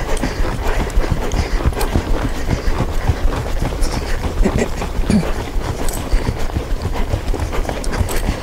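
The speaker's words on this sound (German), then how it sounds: "Auch der Trab ist raumgreifend mit gutem Takt und Schwung." An Icelandic horse, a mare, trotting outdoors over open ground, its hooves striking in a steady, even two-beat rhythm that is close and loud, with faint background noise and no clear talk.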